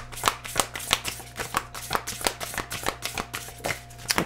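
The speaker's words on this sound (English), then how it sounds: "grab a couple more cards for Capricorn" Tarot cards shuffled in a steady, repeating riffle, each burst crisp and close, about a dozen quick flutters with a faint low hum underneath and no voices.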